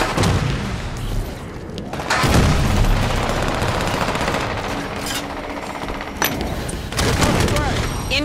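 Binary rifle gunfire in Halo 5 during a loud firefight, dense sharp shots and booms in rapid bursts over heavy combat noise, with voices talking throughout.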